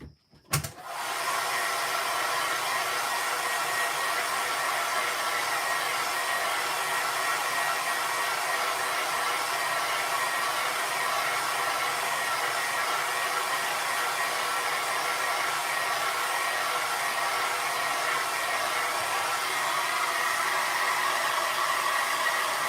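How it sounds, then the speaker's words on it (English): A hair dryer blows on watercolor paint, a loud steady whoosh that switches on abruptly and runs continuously without pause, alone with no talking. "I need to go and dry this with a hairdryer"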